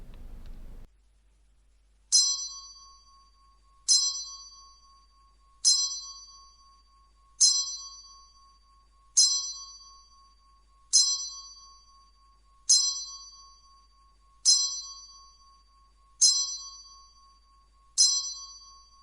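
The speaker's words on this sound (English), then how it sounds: "after a 10-bell salute" A ten-bell salute: single clear bell strikes ring out at an even, slow pace, each tone ringing on and fading before the next, alone in a quiet space.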